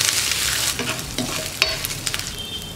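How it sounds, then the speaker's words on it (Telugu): Cumin and grated ginger sizzle in a hot pan while being stirred, a steady frying hiss broken by a few scraping clicks of the spoon, close and moderately loud with no talk. "రెండు వేసుకొని వీటిని కూడా చక్కగా కలుపుకుందాం."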